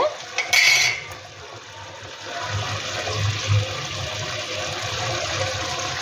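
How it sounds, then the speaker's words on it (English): Kerala fish curry bubbling in a pot after the fish goes in, a steady low simmering gurgle that follows a brief clatter of the cookware at the start, with no talking. "When it start to boil, then you add the fish."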